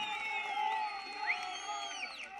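A large rally crowd cheers and claps at a political gathering, a continuous distant roar with whoops and shouts rising above it, fairly faint overall.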